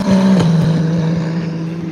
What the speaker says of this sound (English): That was a McLaren